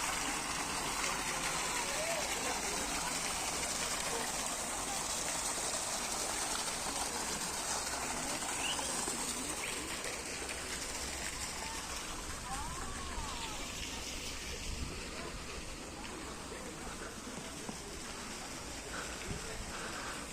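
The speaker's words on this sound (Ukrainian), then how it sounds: "Водоспад який чудовий, да?" The waterfall in Istanbul Park in Odesa, built as a large stone cascade, roars in a steady, dense splash, heard nearby and continuous, while voices talk faintly beneath it.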